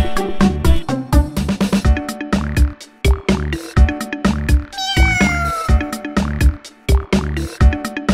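Cartoon cat meows sung in a Hindi children's rhyme, a rapid run of loud, close, bright meows and yowls repeating in rhythm over musical backing.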